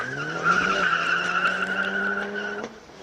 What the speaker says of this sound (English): Up the mountain, E90 BMW. This is round 2 of qualifying.